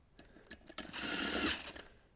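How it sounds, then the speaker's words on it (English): An impact driver set to low torque runs a screw down on a beadlock wheel through a 14mm socket, with a few short taps before a sustained, close whirring burst that then winds down. "take my impact driver, put it on the low torque setting for drywall screws, and I'm going to run this down lightly"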